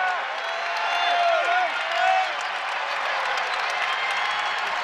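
A college basketball arena crowd at a Western Kentucky home game against Old Dominion, with broad, steady cheering and applause filling the space throughout.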